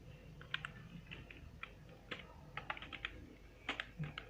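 Someone types on a computer keyboard, producing quiet, irregular keystroke clicks in short clusters, close by and alone without speech.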